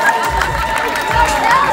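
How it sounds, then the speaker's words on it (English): Wedding guests applaud the wedding party, a dense, steady wash of clapping mixed with crowd cheering that holds loud and even throughout. "let's have another round of applause for the entire wedding party"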